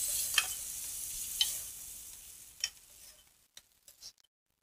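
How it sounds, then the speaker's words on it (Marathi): Bitter gourd sautés in a pan after tamarind pulp is added, a steady close sizzle with a few sharp stirring clinks that fades out toward the end. "आता या चिंचेचा कोळ घालायचा आहे आपल्याला आणि परतून घ्यायचं परत."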